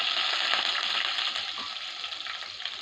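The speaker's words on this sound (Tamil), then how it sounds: "நம்ம பூண்டு போடலாம். பூண்டு போட தான் டேஸ்ட் வரும்." Garlic sizzles steadily in a hot pan, a dense, close hiss of frying that holds at an even level throughout, with no talking over it.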